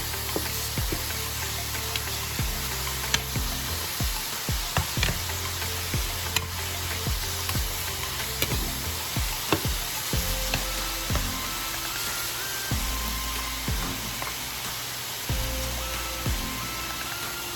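Ground beef with spices sizzles and fries steadily in a pan, with intermittent scraping and clanks of stirring over the constant hiss, close and alone without speech.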